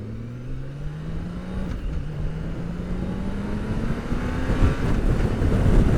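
A BMW K1600B motorcycle pulls away and accelerates, its engine note rising steadily in pitch through the gears with a brief dip at a shift, growing louder as wind noise builds, heard from the rider's position.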